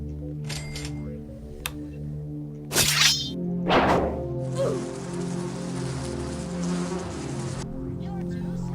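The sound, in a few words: bees buzzing at a beehive in the Roblox game Find The Doges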